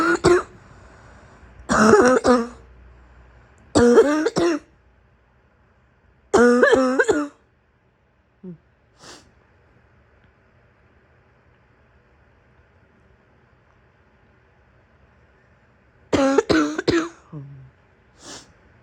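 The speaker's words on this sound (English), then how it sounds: "You like it when my cough gets out of control and I start barking." A sick woman's harsh, barking morning cough comes in several loud, close bursts with throat clearing in between, separated by quiet pauses, with a final cluster of coughs near the end.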